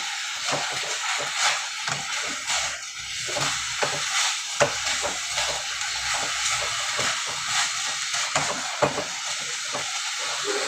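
Squash being stirred in a pot for creamy sinigang, a close steady hiss of steam and simmering with scattered utensil knocks and scrapes against the pot.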